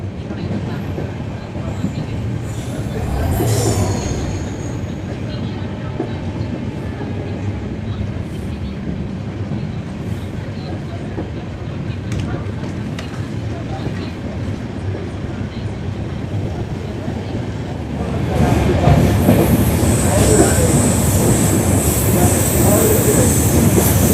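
Bikaner - Prayagraj SF Express 12404 running on the rails, a continuous loud rumble of wheels and carriages with rhythmic clatter and occasional squeals, growing louder and brighter near the end as the ride continues.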